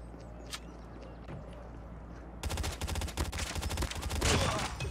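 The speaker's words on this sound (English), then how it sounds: "I just wanted to test the hip fire there" Rapid hip-fire gunshots in the Call of Duty Mobile video game, a quick rhythmic burst of loud automatic shots after a quieter stretch of game ambience.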